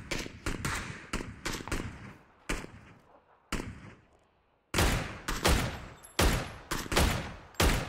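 Automatic gunfire aimed at an enemy team in PUBG, rapid loud bursts of shots with a short lull partway through before heavier firing resumes, close and dominant.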